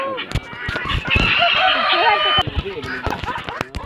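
Several guinea fowl and chickens call close by on a farm, harsh repeated cries and clucks overlapping, with people talking underneath.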